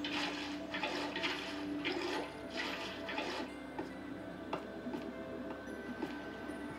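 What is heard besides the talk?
flowing water in a video game, Minecraft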